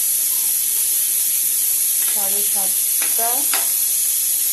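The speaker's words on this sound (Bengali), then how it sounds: "এখানে দেখতে পাচ্ছেন বেগুন ভাজা বসিয়ে দিয়েছি" Eggplant slices frying in a pan give a steady, loud sizzle and hiss from start to finish, while someone briefly talks over it.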